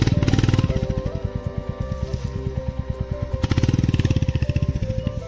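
A Hero Xpulse 200 motorcycle climbs a rough trail with a loud, close engine that thuds rhythmically, rising and falling in bursts as the throttle is worked.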